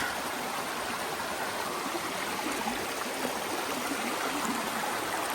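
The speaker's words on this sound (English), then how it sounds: "Going over this cool bridge here. Over the 19-mile brook." A mountain brook rushing beneath a trail bridge near Carter Notch, a steady, full-bodied roar of flowing water, close and constant with no voices.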